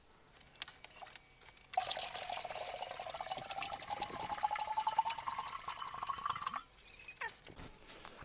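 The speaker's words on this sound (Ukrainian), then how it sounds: "Тепер в цей же бутель я набираю води з криниці і розбавляю." Well water pours from a container into a glass bottle used for diluting homemade kirschwasser, a steady close splashing stream lasting several seconds, with brief drips and handling sounds before and after.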